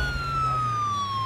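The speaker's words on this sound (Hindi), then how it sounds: "एम्बुलेंस आ गई" An ambulance siren wails steadily, a clear rising and falling electronic tone over a low engine rumble, fairly prominent and nearby with no voices over it.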